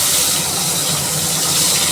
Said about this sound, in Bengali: কুচনো পেঁয়াজটা ভেজে নিচ্ছি আমি